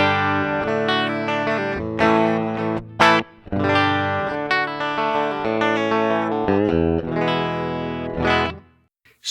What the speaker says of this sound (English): running through a rat, just a regular rat pedal, and a Telecaster right now,